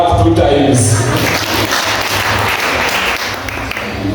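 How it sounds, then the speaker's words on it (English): Audience clapping at a health institute's welcome event, a crowd's applause rising under and after a voice at the start, then a steady patter of hands with a few heavier claps standing out. "so you need to clap 2 times."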